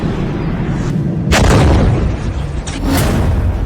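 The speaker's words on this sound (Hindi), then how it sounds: "ईरान ने एक बार फिर मिसाइल लॉन्च करते हुए दिखाई है।" An Iranian missile launch roars loudly, a sustained low rumble with sharp blasting surges partway through, with no talking.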